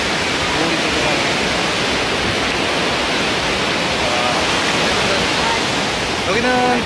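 Ocean waves at Kuta Beach, Bali, make a loud, steady wash of surf that roars without a break through the whole stretch, with brief faint tones near the end.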